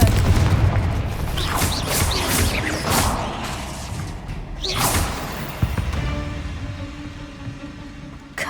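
Repeated Confringo spell explosions in the video game Hogwarts Legacy: a string of loud booming blasts with whooshing bursts over several seconds, the last ones fading into a lower rumble.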